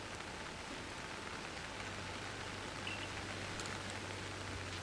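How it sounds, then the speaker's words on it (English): Steady, soft rain patters in a video game's weather, a faint, even hiss with a low hum underneath and no talking. "It is raining,"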